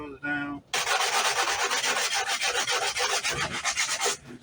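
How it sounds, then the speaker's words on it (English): Hand sanding of Bondo body filler on a 1992 Mazda MX-5 Miata ducktail spoiler, a steady close rasping scrub of rapid back-and-forth strokes running continuously after a brief pause. "all I'm doing is just sanding those down"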